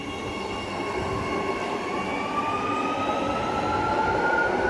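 An electric train rolls steadily along an Adelaide suburban line, giving a continuous rumble with rising whining motor tones and faint wheel squeal, heard from on board, with no talking.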